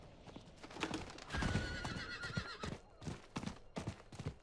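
A horse whinnies loudly, a stretched neigh with hoofbeats clopping around it, close and clear.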